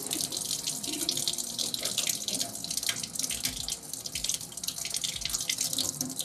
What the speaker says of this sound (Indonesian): kita akan membilas preparat ini pada air mengalir selama 2-5 detik